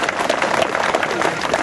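Spectators applauding at a farewell cycling race in Heist-Goor, a steady mass of clapping from a crowd with a voice speaking over it through a loudspeaker.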